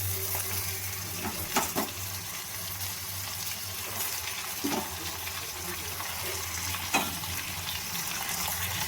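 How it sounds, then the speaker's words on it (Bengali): Chicken pieces frying with browned onions in a pan for fried chicken biryani: a steady, moderate sizzle runs throughout, broken by a few soft stirring clatters. "এর মধ্যে আমি চিকেনটা দিয়ে আবার চিকেনটা পেঁয়াজের সঙ্গে একটু ভেজে নেব"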